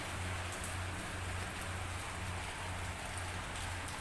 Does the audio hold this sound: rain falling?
yes